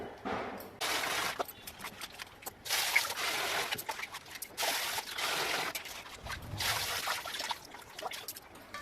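Half a glass of foxtail millet and rice being washed by hand in water, with repeated bursts of sloshing, trickling and grains rubbing together, fairly close, with no talk.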